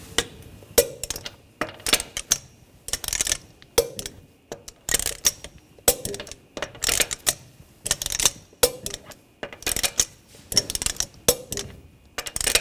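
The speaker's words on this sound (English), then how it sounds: "Now we're going to torque the lug nuts to 83 foot-pounds in a cross pattern to tighten the wheel down evenly." A torque wrench ratchets lug nuts to 83 foot-pounds in a cross pattern on the front wheel of a 2014-2020 Nissan Rogue, producing sharp, close ratcheting clicks in quick bursts with short pauses between nuts.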